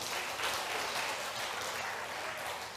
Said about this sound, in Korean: 옆 사람에 우리 박수 한번 쳐주세요